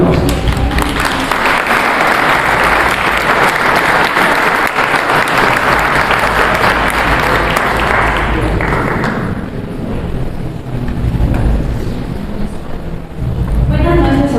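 A seated audience at a Bolivian book presentation gives loud, sustained applause, a dense wash of clapping that tapers off as a voice begins speaking over the fading claps.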